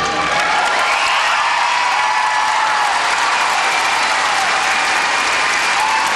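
Arena crowd applauding steadily and loudly on their feet for Canadian champion figure skater Joannie Rochette at Kitchener Auditorium after her free skate at 2009 Skate Canada, a dense unbroken wash of clapping throughout.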